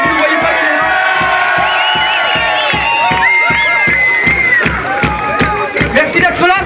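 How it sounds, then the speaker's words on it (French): Audience at an outdoor town festival in Leucate cheering and shouting for a live band's percussionist, loud whoops and high voices over clapping, close and continuous. "Au percu, Jacques au percu, vous pouvez l'applaudir aussi"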